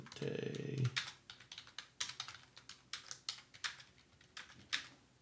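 Fingers tap a computer keyboard in an uneven run of close, crisp keystrokes, about a dozen clicks following a brief low hum at the start.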